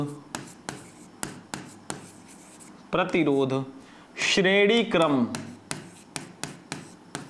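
Writing on a board to note resistors R1, R2 and R3 makes a steady series of short, sharp strokes and taps throughout, with a voice speaking over the middle stretch.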